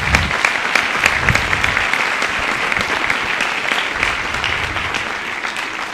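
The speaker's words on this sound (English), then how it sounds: "So how about another round of applause for them?" Hall full of people clapping steadily at a high school winter band concert, a dense, even wash of applause that carries on without letting up.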